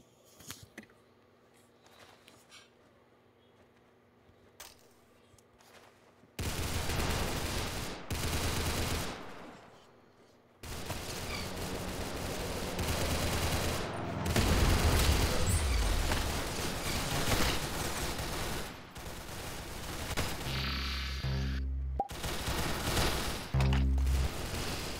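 Sustained bursts of automatic gunfire in a shooter video game, loud and dense, starting after a quiet stretch and continuing in heavy volleys with intermittent sharp booms near the end.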